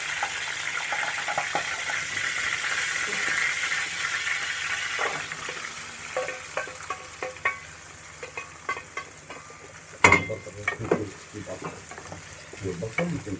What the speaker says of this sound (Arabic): ودلوقتي السمنة قدحت، وهنحط البصل والجزر